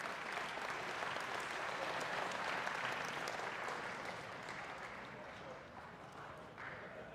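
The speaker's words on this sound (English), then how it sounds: "Let's give a round of applause for these people." Spectators at a high school wrestling state duals championship applaud the seniors in a dense, steady wash of clapping from a large crowd, loud at first and slowly easing off toward the end.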